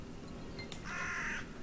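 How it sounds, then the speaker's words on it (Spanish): A crow caws once in the video game Lost Ark, a single harsh, drawn-out call ringing out clearly over a low ambient background. "Busca el cuervo del sonido inquietante."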